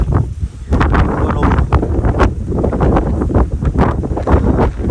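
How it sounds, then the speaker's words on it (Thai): Wind gusting loudly and steadily outdoors near a cliff edge, buffeting the microphone with rough, rumbling noise throughout. "ลม"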